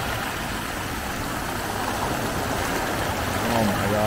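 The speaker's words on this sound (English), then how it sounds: "Let's go a bit closer to the fountain because this is really beautiful." A city fountain in Skopje pours water in a constant broadband rush, heard close up with street hum beneath and a faint tonal sound near the end.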